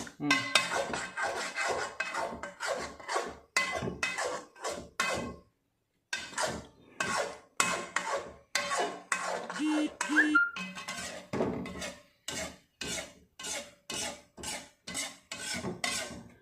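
A spoon scrapes repeatedly around a cooking pot of paneer gravy in quick, steady strokes, with one brief pause partway through.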